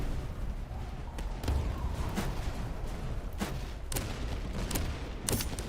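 Grenadiers fire musket volleys in the Napoleonic-era strategy game Master of Command. Sharp, crackling shots ring out repeatedly in ragged bursts over a constant battlefield roar, with several loud reports close together.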